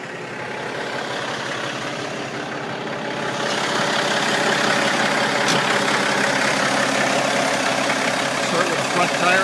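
A 2009 Kenworth T660 truck engine turns over and settles into a steady idle. The rumble is broad and continuous and rises in loudness partway through, with no speech over it.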